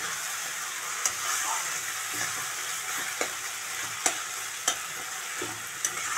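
Green chillies sizzle steadily in hot oil in a frying pan while chicken is being cooked. A loud, close hiss runs throughout, broken by several sharp clinks and scrapes of a spatula stirring. There is no talking.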